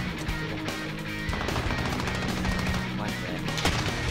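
Video game gunfire: rapid automatic bursts of shots, loud and dense throughout, with a heavier crack near the end.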